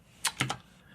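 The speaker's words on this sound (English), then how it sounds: "let me just go ahead and start typing" Three quick keystrokes tap on a computer keyboard, close and crisp, a short burst of clicks with near silence around them.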